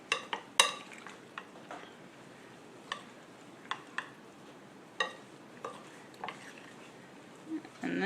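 Spoon clacking and scraping against a bowl while a pie filling mixture is stirred, giving irregular sharp taps spread over several seconds against quiet room tone, with no voices.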